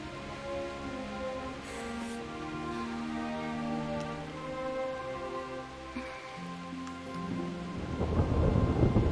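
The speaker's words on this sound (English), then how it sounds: "Not afraid of thunderstorms, are you?" A thunderstorm in the video game Kingdom Come: Deliverance: steady rain hisses continuously while thunder rumbles low and swells louder near the end, with faint sustained tones underneath and no voices.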